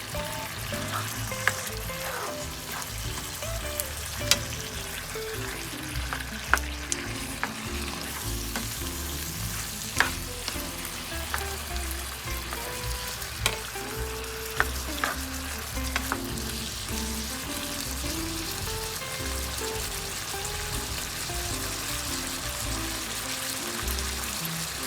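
Squid adobo frying and being stirred in a pan, with a steady close sizzle broken by repeated spatula scrapes and knocks against the pan for about twenty-five seconds, with no talk.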